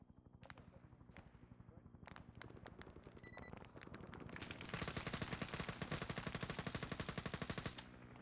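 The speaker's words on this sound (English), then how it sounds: "Is someone trying to shoot bloody grenades at it?" Video game gunfire, a few sparse single shots giving way to a long rapid machine-gun burst of grenade-like bangs that grows louder and denser before stopping abruptly, with faint talk underneath.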